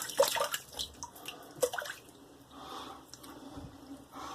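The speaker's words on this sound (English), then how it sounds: "let me rinse and I'll be right back" Water running and splashing as a razor is rinsed during a wet shave with shave soap, close with short bursts of splashing and dripping that settle into a quieter trickle.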